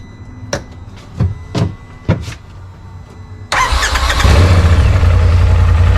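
A RZR Pro XP with its stock blow-off valve cranks over: a few sharp clicks and clunks, then the engine catches and settles into a loud, steady, rumbling idle that continues to the end.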